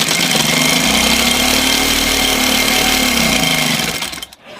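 An electric sewing machine runs steadily, stitching along the edge of a kurta with a close, loud motor whir and rapid needle rattle that winds down and stops near the end.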